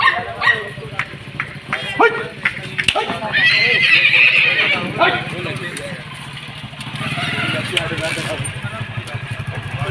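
A mare whinnies up close during a village horse ride, with dogs barking and people talking over a busy outdoor background.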